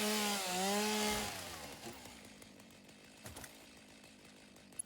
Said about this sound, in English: It was time for some chainsawing.